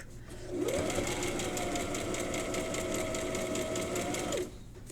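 A sewing machine stitches through fabric in a steady, close, fairly quiet whir for about four seconds, starting and stopping cleanly, with no talking.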